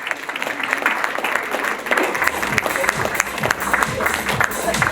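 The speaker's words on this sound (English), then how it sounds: "Keep the applause going" Audience applause fills a hall at an awards ceremony, steady dense clapping at moderate loudness with crowd murmur beneath and no clear speech over it.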